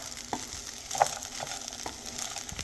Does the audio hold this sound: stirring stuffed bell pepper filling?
yes